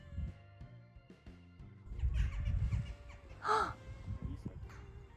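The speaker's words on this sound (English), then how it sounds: "The crows or the jackdaws came straight away" Crows or jackdaws caw a few times from trees near a house, harsh calls rising out of low rumbling background noise, with one loud, close caw standing out.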